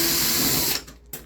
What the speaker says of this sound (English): I'm gonna use my Work Pro 8 volts drill to make it faster.